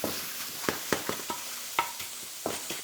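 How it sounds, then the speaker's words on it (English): Mushroom slices searing over high heat in a hot wok, with a steady crackling sizzle broken by sharp, repeated spatula clacks and scrapes at an uneven rhythm, close and clear with no speech. "With mushrooms, you want to cook it on a high heat because it sears nicely"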